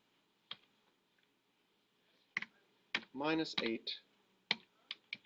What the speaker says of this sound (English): So I'm going to type it in to Desmos